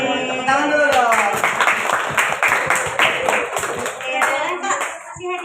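Fifth-grade children on a school visit to a public library clap together in a dense patter, while young voices call out and chatter over the clapping throughout.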